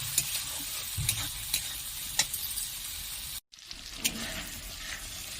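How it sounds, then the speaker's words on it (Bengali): Thick spice paste of tomato and masala stir-fried in oil in a pan for a prawn and pointed gourd curry, giving a steady close sizzle with scraping spatula strokes and a brief dropout near the end. "যতক্ষণ না মশলার থেকে তেলটা বেরোচ্ছে ততক্ষণ এটি ভালো করে কষিয়ে নিতে হবে"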